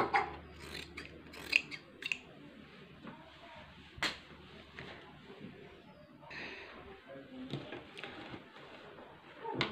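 Scissors cutting salwar fabric, a series of faint close snips and crisp clicks scattered irregularly over quiet handling noise, with occasional talk.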